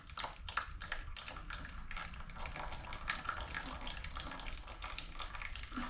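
Gear lube draining from the rear end of a 1979 Cadillac hearse, a faint, steady trickling and splashing of fluid into a pan that runs continuously and alone throughout.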